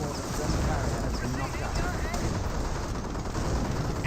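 Rapid gunfire from a Company of Heroes battle, with weapons firing on a Grenadier near a Pak 38 and a Bren carrier, forms a dense, steady clatter throughout, with a commentator talking over it.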